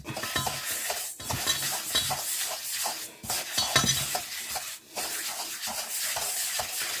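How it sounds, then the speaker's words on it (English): Sugar and stock margarine are creamed together in a bowl: a steady, close scraping and rubbing of the mix against the bowl in repeated strokes, with brief pauses and no talking. "We start creaming all this sugar and butter together."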